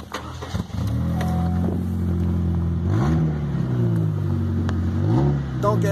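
A car engine with a damaged, holed exhaust revs up and down close by, its loud, rough, rattling drone rising in two or three surges over six seconds with no talk.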